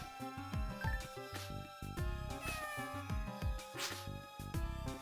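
A cat character in the game Phantasy Star 0 meows repeatedly in a melodic, synthesized way over video game music while being petted, loud and close with no talk.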